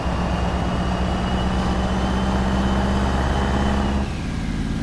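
A Detroit Diesel 8V92 in a Peterbilt 352 runs in a truck simulator, a loud, steady low diesel drone with a whining overtone, easing off slightly near the end; no talking.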